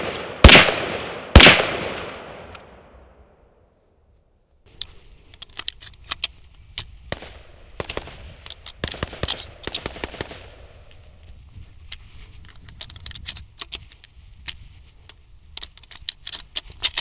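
Two loud, sharp lever action rifle shots ring out close together and echo, followed by a quiet pause and then a stretch of clicking, rattling handling noises.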